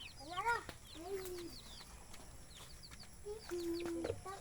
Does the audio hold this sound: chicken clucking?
yes